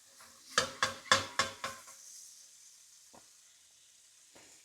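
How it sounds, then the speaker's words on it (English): Calves liver and garlic sizzling in butter in a pan, with a burst of five or six loud, close sizzling pulses from the stirring, then a quieter steady fry and a few faint clinks near the end. "I'm just going to move this garlic around a little bit just to flavour that butter as much as I can"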